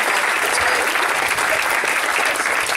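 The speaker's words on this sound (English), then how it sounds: "Yeah, clap it up." Sustained applause from a benefit event audience at a high school, steady dense clapping throughout with no break, loud and close.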